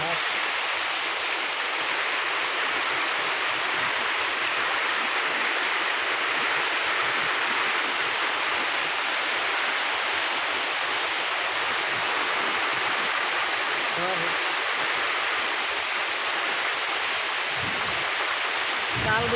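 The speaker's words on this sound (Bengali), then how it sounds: "কাল বৈশাখী ঝড় শুরু হয়েছে," Heavy rain lashes a village during a Kalbaishakhi storm with strong wind, making a dense, steady hissing roar that stays unbroken and loud for the whole stretch.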